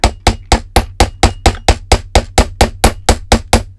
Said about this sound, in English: Hold your hammer at the very end and swing with your whole